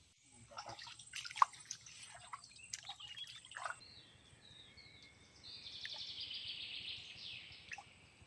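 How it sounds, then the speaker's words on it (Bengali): Tide water begins trickling into a Sundarbans mangrove forest, faint drips and gentle gurgling close by, with birds chirping and calling around it in an otherwise quiet setting. "বন্ধুরা অনেক অপেক্ষার পরে কিন্তু কেবলমাত্র জল আসা শুরু করেছে"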